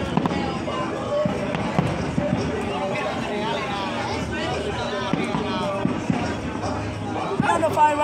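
New Year fireworks over Miami Beach, loud booms and crackling bursts scattered through a noisy crowd with people talking and cheering close by.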